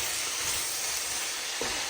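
Bacon, onion and cabbage frying in a pan give a steady, close sizzle and hiss, with a soft stirring clunk near the end.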